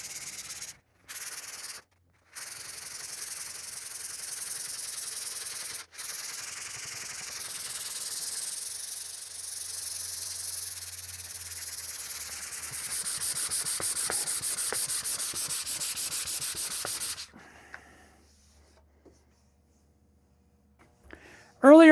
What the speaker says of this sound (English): Don't skip a grit. Go one grit, work up through 120, 220, 320.